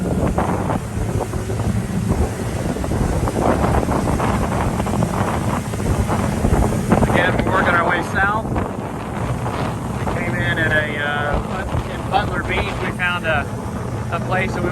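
A motorboat engine drones steadily while the boat throws a big wake, with heavy wind buffeting the microphone and water rushing and splashing; voices chatter faintly in the later part. Matanzas, St. Augustine, Florida.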